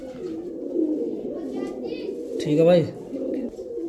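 A pigeon of a prized pure breed coos in low, rolling repeated calls, close by, while someone talks briefly over it.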